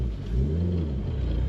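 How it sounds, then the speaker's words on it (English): Modified 460 bhp Mk1 Audi TT quattro engine revving up close, a deep rumbling rise in pitch over about a second and a half, with no talk. "just give it some revs though"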